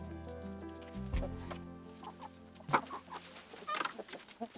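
Chickens on a homestead in autumn, clucking several times at moderate distance, with short irregular calls rising over a low background.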